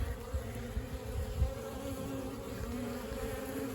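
A steady, close hum of many honey bees buzzing together during a bee rescue, continuous and fairly quiet, with a few louder low buzzes as individual bees pass near.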